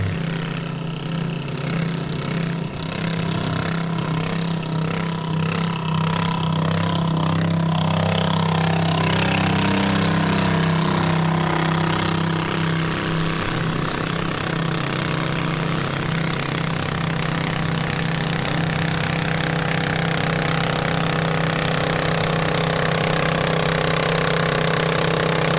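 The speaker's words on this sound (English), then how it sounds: "Driving the tractor, she calls Jolene." A garden tractor engine runs hard and steady throughout a pull at a spring show tractor pull event, a loud, continuous mid-pitched drone with no pause or voices over it.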